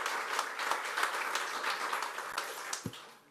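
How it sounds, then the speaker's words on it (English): A crowd applauds fire department and police officers at a community day event, steady dense clapping filling the whole stretch at moderate distance, with no voices standing out. "Give them a round of applause, please."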